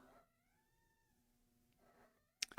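A house cat gives a few soft, drawn-out meows in an otherwise quiet room, followed by a sharp, louder noise at the very end.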